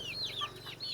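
Free-range kampung chickens on a farm cluck and peep close by, with a quick run of high, chirpy calls over a low, steady murmur of birds, and no talking.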